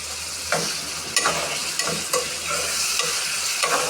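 Garlic, onion and green chilies fry in hot oil for a dried-fish curry, a continuous sizzle broken by rhythmic scraping stirs of a spoon in the pan roughly every half second.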